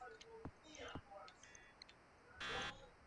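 A game-clock buzzer sounds in the Sega Genesis basketball game NBA Action '95: one short, harsh electronic buzz, faint overall, following quiet voice-like game sounds.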